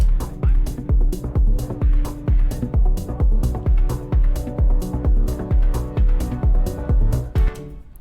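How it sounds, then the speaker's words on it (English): Electronic track built in Propellerhead Reason, with a steady hi-hat pattern ticking over a driving kick, bass and sustained chords, looping evenly and loud for the whole stretch with no voices. "I just add in this hi-hat to give an extra little groove"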